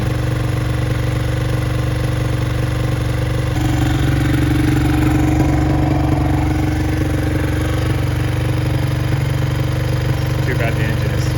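A cold Honda SL100 motorcycle engine with a freshly cleaned carburetor idles slightly high, a close, steady low-pitched putter with a faint mechanical clatter, and someone talks over it.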